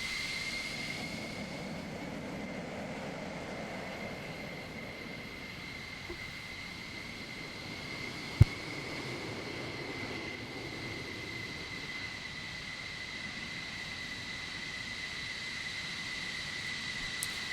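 Aircraft engines idling and taxiing in a Cold War combat flight simulator game, a steady low drone with constant high whine across the whole stretch, one sharp click midway.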